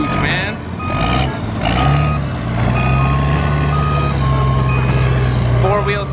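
A huge four-wheel-steering vehicle backs up through sand, its reversing alarm beeping steadily at an even pace over a heavy engine drone, with people talking nearby.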